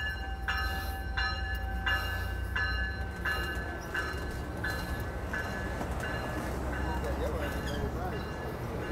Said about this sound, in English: this is the late 728 Capital Corridor train